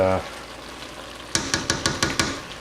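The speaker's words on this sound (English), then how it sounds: "now I'm going to stir in these bigger chunks of sausage" Big chunks of Italian sausage are stirred into a pot of black bean chili; after a quiet stretch come about six close, rhythmic scrapes and clinks of a utensil against the pot.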